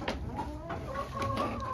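A hen clucks softly in a chicken coop, a few close, low, murmuring clucks over a faint steady background hum.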